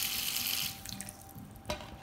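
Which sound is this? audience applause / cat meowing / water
water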